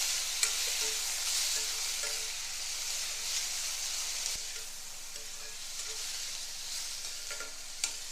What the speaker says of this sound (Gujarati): હવે ટામેટા અને 8 થી 10 કાજુ ઉમેરી ટામેટા સોફ્ટ થાય તે રીતે થોડી વાર થવા દેવાનું છે